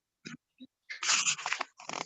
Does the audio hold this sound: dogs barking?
yes